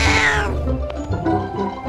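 A cat meows in a short, loud, close call that falls in pitch, followed by softer murmuring sounds, heard alone without speech.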